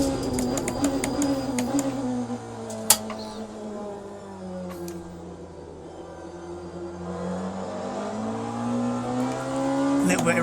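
A race car in the Le Mans Ultimate sim racing game accelerates with a steady, rising engine drone and strong harmonic whine, a sharp click partway through, while someone talks over it.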